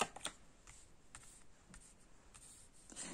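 Oracle cards being shuffled and drawn for a yearly reading make quiet, soft papery flicks and slides, a few brief swishes scattered irregularly in a faint, otherwise calm room.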